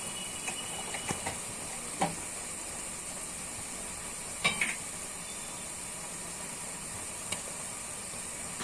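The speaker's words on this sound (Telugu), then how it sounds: "ఇవన్నీ వేసి పచ్చివాసన పోయే వరకు వేయించాలండి." Turmeric, chilli powder and ginger-garlic paste fry with koyyinga fish in a pan, a steady faint sizzle and hiss with a few soft clinks of stirring.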